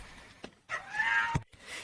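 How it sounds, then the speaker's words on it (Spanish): A pet cat meows in two or three short, clear calls at close range, alone in an otherwise quiet moment. "tu gatito quiere participar"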